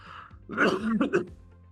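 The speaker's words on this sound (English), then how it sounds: "I apologize for the cough." A single harsh cough or throat-clearing, close and fairly loud, in a quiet room with no talking around it.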